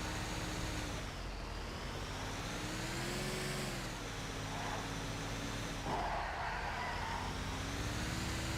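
Broken truck driving in the GTA V FiveM video game, a steady droning engine with rising and falling pitch as it accelerates, continuous and fairly close.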